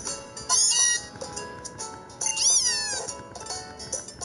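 Cat Pokémon crying in Pokémon Moon, two synthesized meowing calls with rising and falling pitch over quiet game music.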